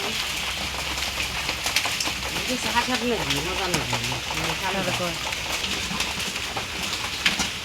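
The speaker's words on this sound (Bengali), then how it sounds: "এই যে বৃষ্টি নামছে" Steady rain patters across a surface throughout, with a person talking over it and occasional louder drops.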